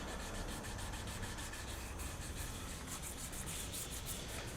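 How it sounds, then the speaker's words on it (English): Hand sanding a Stratocaster guitar neck with sandpaper: a continuous, rhythmic dry rubbing hiss of repeated back-and-forth strokes, close and steady with no talking. "each successive grit that you move up, you'll notice that you're getting more and more shine on the neck"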